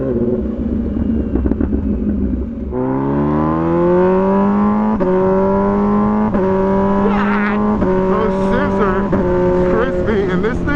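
An MV Agusta Brutale 1000RR with a full titanium Arrow exhaust revs hard and accelerates, its loud, close engine note climbing in pitch through several successive surges, each rise broken by a short drop.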